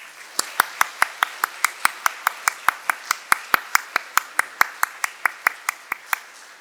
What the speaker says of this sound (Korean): 우리 같이 크게 박수 치시겠습니다